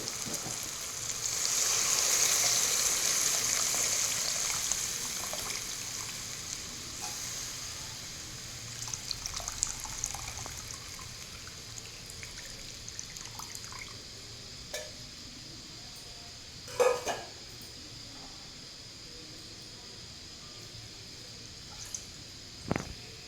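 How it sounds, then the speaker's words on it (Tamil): Tamarind water pours and splashes into a pan while cooking paruppu urundai kuzhambu, a watery hiss building then fading, followed by scattered drips and a couple of clatters. "இப்போது புளி தண்ணி ஊற்றுறேன்"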